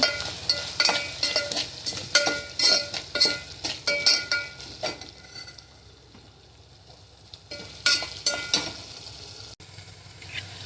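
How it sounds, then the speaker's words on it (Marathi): Onions with green chilli, turmeric, chilli powder, salt and garam masala sizzle in a pan while a spoon scrapes and stirs in repeated bursts, with a quieter sizzling stretch midway before more stirring clinks. "तिखट मीठ गरम मसाला घालून परतायचं, चांगलं परतायचं कांद्याला।"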